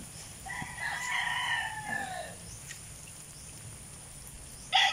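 Chickens in a coop cluck and a rooster crows once in a long drawn call, fairly near, over a soft background hiss, with a brief burst of noise at the very end.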